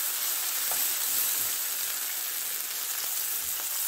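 Red and yellow bell peppers fry in a pan with a steady, even hiss and sizzle, continuous and close, with no talking over it.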